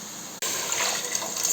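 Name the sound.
water poured onto rice and green gram for cooking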